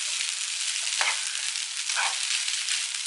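Ready-made spätzle fry in a pan with a steady, close sizzle, broken by a couple of brief stirring scrapes.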